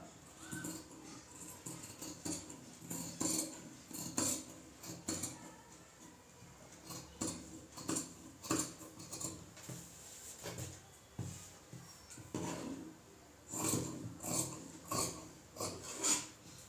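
Scissors cut through blouse fabric layers in a home tailoring session, giving repeated rasping snips in bursts with short pauses, close and moderately loud, with no talking.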